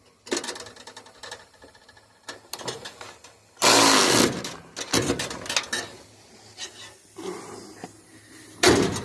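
A truck door swings shut and latches with a loud, solid slam near the middle, surrounded by scattered clanks and rattles of work on the vehicle's body.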